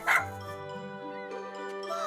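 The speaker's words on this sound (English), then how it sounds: "Nice, adorable, terrifying, cute doggy." A cartoon dog gives a short sharp bark up front, then a drawn-out whining, tonal yelp, with music underneath.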